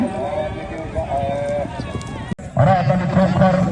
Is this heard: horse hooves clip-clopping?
yes